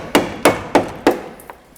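Four sharp hammer blows strike a chisel prying floor panels loose, evenly spaced and close, followed by a fainter tap.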